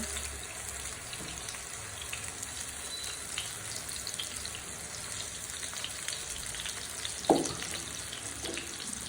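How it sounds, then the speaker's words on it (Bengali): Eggplant pieces fry in a pan with a faint, steady sizzle and light crackle, broken by one brief clatter near the end. "এখন হচ্ছে আমি বেগুনগুলা ভেজে নেব।"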